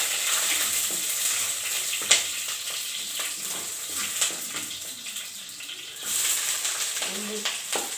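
Green chillies sauté for a fish curry in a pan, giving a steady close sizzle with occasional stirring scrapes and a louder clink, the frying surging again near the end.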